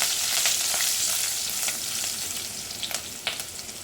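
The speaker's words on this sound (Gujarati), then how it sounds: "2 લીમડા મીઠા, 2 મરચાં, થોડી હિંગ સાતળી લેવાનું આટલું." Curry leaves, chillies and asafoetida sautéing in hot oil, a steady close sizzle with scattered crackles and pops, with no talking.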